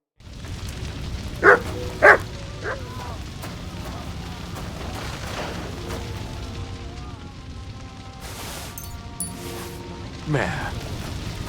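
A dog barks in the medieval game Kingdom Come Deliverance 2, two sharp close barks early on and then a softer yip, with people talking over a low ambient bed.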